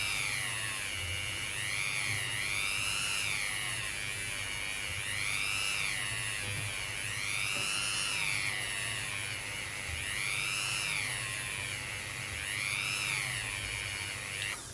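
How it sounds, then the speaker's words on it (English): A Dremel rotary tool whines against a German 1 Mark coin being shaped into a ring, a faint high-pitched tone rising and falling in slow, regular sweeps as pressure varies, with no talking. "Dave the Dremel."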